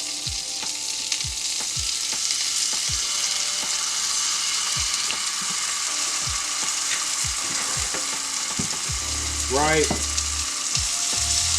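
Onions and sauce fry with vegan bratwurst in a pan, a steady loud sizzle broken by regular scraping stirs and a brief rattling clatter near the end; a voice speaks one short word.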